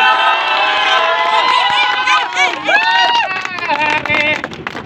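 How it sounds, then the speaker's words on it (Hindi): A crowd cheers and shouts loudly during a prize announcement at a junior school cricket tournament in Karachi, with many overlapping voices sustained throughout. "और आपकी भरपूर तालियों"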